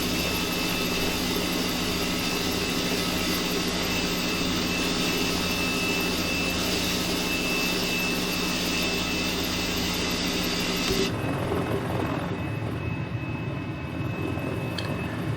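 A helicopter in a flight simulator game drones steadily with a loud, continuous engine and rotor hum, shifting to a lower, rougher tone near the end.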